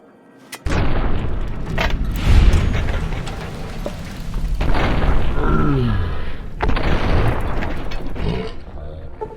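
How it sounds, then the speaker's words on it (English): A grenade bursts with a sudden heavy boom in the video game Fallout: New Vegas. Rumbling blasts and gunfire follow, along with clanking and a brief whistling tone, all loud and close, and shouted voices come in briefly. "Hit the deck! Grenade!"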